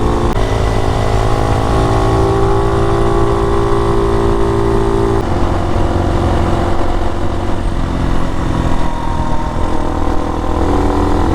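A motorcycle engine runs steadily at higher revs after a spark plug change, a loud continuous drone with shifting tones that holds close for the whole stretch, no talking.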